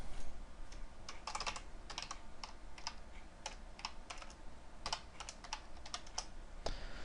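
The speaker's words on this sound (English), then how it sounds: "Let me shrink this down so you can see me actually typing these out." Steady, fast typing on a computer keyboard while C# class code is written, with dense clusters of close, crisp key clicks and brief pauses between bursts, and no talking.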